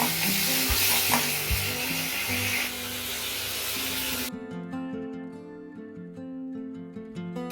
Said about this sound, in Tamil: நல்லா எண்ணெய் பிரியிற அளவுக்கு இதை நல்லா வதக்கணும்